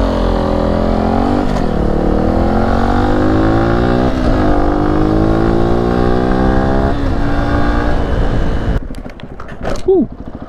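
A Beta RR 125 LC supermoto motorcycle revs and accelerates loudly throughout, its engine pitch climbing and dropping through the gears as it rides, then easing off near the end.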